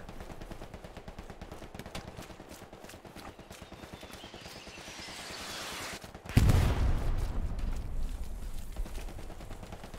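Suppressing gunfire in the Hell Let Loose battlefield game rattles as rapid repeated shots under a busy background, then a loud close burst or blast hits and leaves a heavier rumbling wash.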